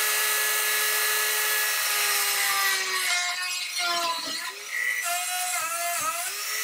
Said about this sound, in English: Using the rotary tool, I'm going to just drill a hole into the wing